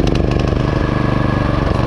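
A small pull-start rotavator tiller engine idles at tick over just after starting, a close, loud, even putter with a rapid regular pulse.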